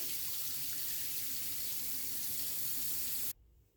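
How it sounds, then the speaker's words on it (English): Rice rinse water poured out into a sink, a steady broadband rush of running water that continues loud and unbroken before cutting off abruptly near the end. "And then pour out the rice water."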